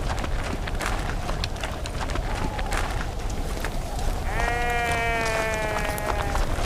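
A sheep lets out a long wavering bleat partway through, loud over a dense, noisy backdrop of movement and commotion during a wolf attack on the flock.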